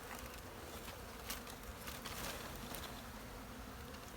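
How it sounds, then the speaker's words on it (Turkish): Dense, steady honeybee buzzing fills the clip, like a swarm of bees humming close by without pause, as bees are shaken off a frame. "Buradan arı silkeleyeceğiz."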